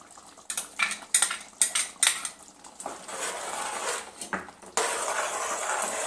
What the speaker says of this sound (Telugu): ఇది ఇప్పుడు ఇందులో పోసేద్దాం.